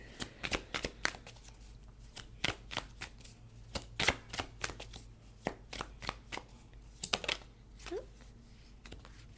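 A deck of tarot cards being shuffled by hand, a run of quick riffling bursts and flicks in irregular rhythm, close and crisp, with occasional soft handling sounds between.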